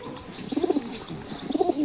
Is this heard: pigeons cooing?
yes